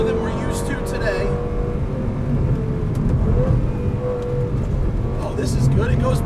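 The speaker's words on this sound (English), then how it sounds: "The engine is really doing its job, and while we can kind of tell the gearbox is 10 years old" A 2004 Lamborghini Gallardo with a ten-year-old gearbox accelerates on a racetrack, its engine droning steadily and loud throughout, with slight pitch shifts as it pulls through gears.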